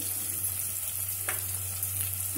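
Chopped onions frying in a pan for sorrel spinach and tomato curry, giving a steady soft sizzle with a faint scrape partway through, alone against a constant low electrical hum.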